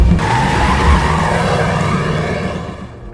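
A police car pulls away hard with tires skidding and squealing, a loud roaring screech of rubber and engine that holds steady, then fades as the car moves off, with no voices.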